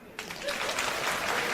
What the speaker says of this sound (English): clap if you would break up with them